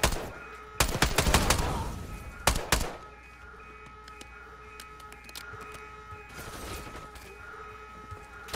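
Gunfire and grenade blasts in the Call of Duty Black Ops 6 campaign: a few loud, close bursts and explosions early on, then a quieter stretch of distant rumble and alarm-like tones before another burst near the end.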